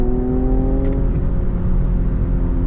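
Infiniti Q60 Red Sport 400 with a 400-horsepower engine accelerating hard, a steady loud engine drone with rising tonal whine heard from inside the car, no talking.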